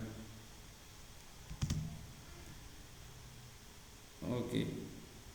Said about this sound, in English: then click on OK button